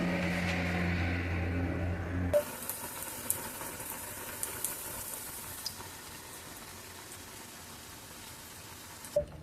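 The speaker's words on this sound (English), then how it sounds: "So the frying pan is nice and ready, and so too is the batter. So I'm just going to drop them." Fritter batter dropped into a frying pan of hot oil in a Jamaican kitchen: a steady sizzle begins abruptly, with a few sharp pops and spits over a continuous crackling hiss.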